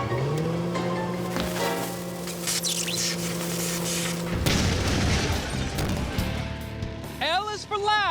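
A deep explosive boom bursts out midway through a science demonstration, followed by a roar of rumbling noise, with voices talking before and around the blast.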